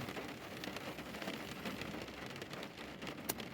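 Steady rain patters on and around a car in a workplace car park, a dense hiss of drops with scattered sharper taps and one louder splash near the end, no voices.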